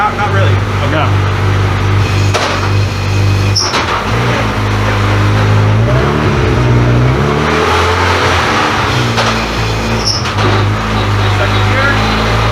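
Turbocharged AWD Honda Civic EM2 with a Quaife sequential gearbox, engine droning and revving in first gear, close and steady with rising and falling pitch, while people talk over it.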